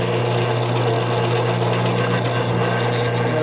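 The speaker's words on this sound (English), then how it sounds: "So we'll run a center drill down there to set our spot." A steady mechanical whir of a drill cutting into metal, constant and close, with a low motor hum and no pauses.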